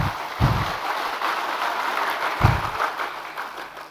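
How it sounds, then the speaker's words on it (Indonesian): Applause from a crowd at a political speech in Indonesia rolls on as a steady, close wash of clapping, with a few heavier low thumps punctuating it. "Ini PKS banyak juga tepuk tangannya ini."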